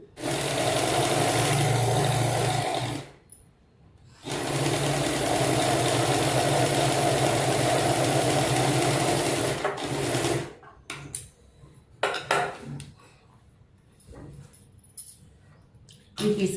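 Sewing machine stitching a padded blouse, loud continuous motor whir in two long runs separated by a short pause, followed by scattered handling clicks and rustles.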